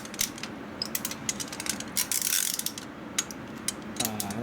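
A ratchet on a shortened Allen key tightens a fastener during a 1979 Harley-Davidson 93ci Shovelhead motor rebuild, giving bursts of rapid close metallic clicking with brief pauses between strokes.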